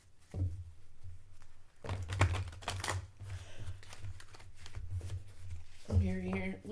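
A tarot card deck is shuffled up close in quick, riffling bursts of papery flicks and soft taps, with a brief voice near the end.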